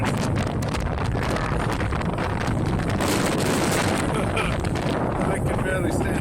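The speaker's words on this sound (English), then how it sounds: "with audio capture holding up pretty well even in a gale force wind." Gale-force wind recorded outdoors on an LG G Flex phone, a constant loud roar of buffeting rumble and hiss with no break, battering the microphone for the whole stretch.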